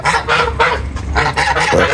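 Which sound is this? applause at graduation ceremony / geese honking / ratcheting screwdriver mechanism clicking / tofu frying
geese honking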